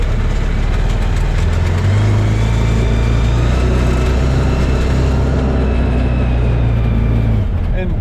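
A 2021 CFMOTO UTV pulls away and accelerates with a steady, loud mid-range engine drone. The note rises gradually as it gains speed and then drops off at the end.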